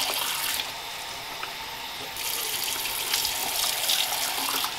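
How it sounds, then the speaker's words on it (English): Tap water runs steadily into a sink as bleach is rinsed out of a child's hair, a continuous close splashing hiss that briefly changes tone partway through, with no talk. "we're gonna rinse his hair out"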